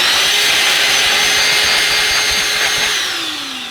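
An old Dyson DC16 Animal cordless handheld vacuum cleaner with a non-digital motor runs close by. Its loud, steady whirring whine holds throughout, then drops in pitch and level near the end as it winds down.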